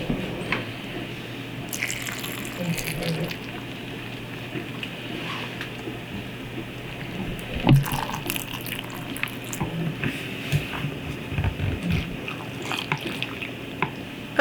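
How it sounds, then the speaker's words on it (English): Hot liquid left over from cooking kidney beans is poured into canning jars, a soft, close trickle and dribble with a few brief splashes and clinks, fairly quiet and without talk. "I'm going to use the bean liquid here that I have left"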